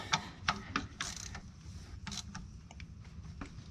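A torque wrench clicks while tightening bolts during a rear remote install on a Kubota MX6000 cab tractor. A few sharp mechanical clicks and ratcheting snaps come in an irregular sequence over a low background rumble, close and fairly quiet.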